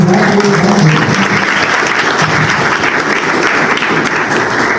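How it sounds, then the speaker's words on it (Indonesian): Audience at a leadership talk bursts into loud, sustained applause for a speaker, dense clapping filling the room evenly for several seconds with no voices over it. "Beri tepuk tangan dulu."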